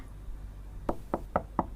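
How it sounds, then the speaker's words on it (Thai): Four sharp knocks rap on a door in a quick, evenly spaced series after a quiet moment, close and distinct against a low background rumble. "เสียงเหมือนคนเคาะประตูเลยใช่ไหมคะ"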